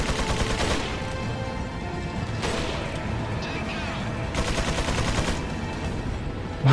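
Rapid bursts of gunfire and booming explosions from the video game Resident Evil 4 crackle and rattle almost continuously, with loud heavy volleys punctuating a dense, chaotic battle.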